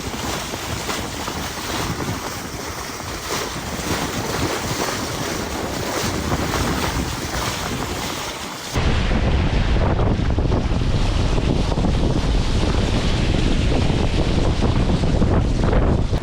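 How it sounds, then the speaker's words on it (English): A sailboat beats upwind with sails trimmed tight, wind roaring across the microphone over steady rushing water and slapping waves, loud and unbroken throughout with no voices. "The sails are just about as tight as can go because we're going upwind."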